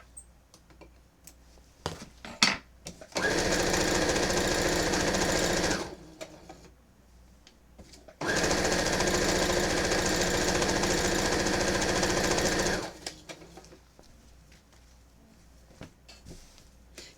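A sewing machine stitches t-shirt quilt fabric in two long steady mechanical runs of a few seconds each, separated by quiet pauses with small clicks and handling taps, close and loud.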